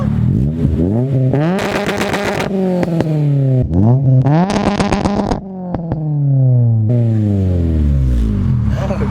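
Car engine revved hard at full throttle, climbing and falling repeatedly with crackling pops and bangs from the exhaust as it shoots flames, loud and close.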